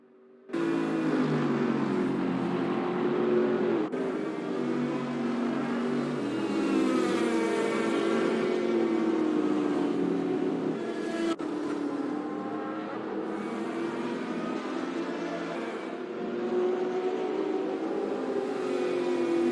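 GT3 and LMP2 race cars from a sim racing game at Mugello give a continuous engine roar, pitch climbing and dropping through gear changes, steady and moderately loud throughout with no voices.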